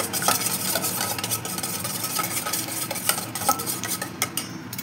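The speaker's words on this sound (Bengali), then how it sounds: "এটাকে আমি ভালো করে মিশিয়ে নেবো ডিমটা।" An egg is beaten in a bowl with a utensil, giving a steady run of quick scraping and clinking strokes close by, with no talking.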